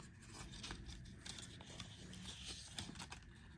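Scissors cut through material while a 3D beaded purse is finished off: faint, soft repeated snipping and scraping under a steady background hiss, with no talking.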